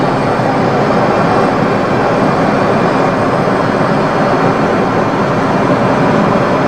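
A Learjet's engines roar at full throttle on the takeoff roll, a loud, dense, unbroken rush that holds steady throughout.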